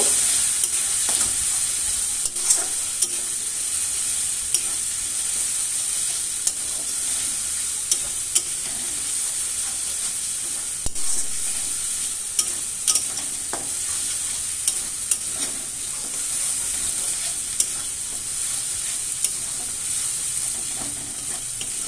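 Ground turmeric, dried chilli, cumin and coriander powders sizzle steadily with fish eggs in a karahi for bhurji, a continuous close frying hiss with occasional scrapes and clinks of stirring throughout, no voices.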